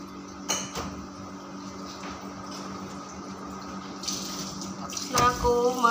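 Dishes washed by hand under a running kitchen tap, with a steady stream of water and occasional clinks and knocks of crockery, fairly close. A brief scrape and clatter comes near the end.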